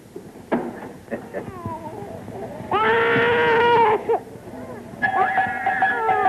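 A cow lets out drawn-out, wavering bellows in a 1953 black-and-white sitcom, two long calls standing out amid bursts of talking and clatter.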